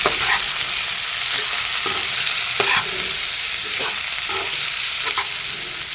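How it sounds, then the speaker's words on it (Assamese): Pieces of goroi fish coated with chili powder sizzle steadily in a hot pan, with a spatula scraping and turning them every second or so, close and clear, with no talking. "মাছখিনি মই ধুনীয়াকৈ ভাজি ল'ম"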